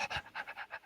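A human voice imitates a dog panting heavily, giving quick breathy huffs in a steady rhythm of about six short pulses, close and moderately loud.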